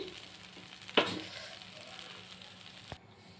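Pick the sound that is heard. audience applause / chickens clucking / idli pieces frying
idli pieces frying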